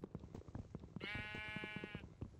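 A Minecraft sheep gives a single, drawn-out bleat lasting about a second, over soft, scattered tapping and shuffling sounds.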